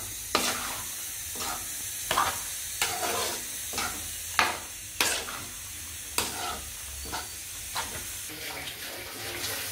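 Goat blood stir-frying in a pan, a steady low sizzle punctuated by regular scraping strokes of a spatula roughly every second, close and fairly loud with no talking.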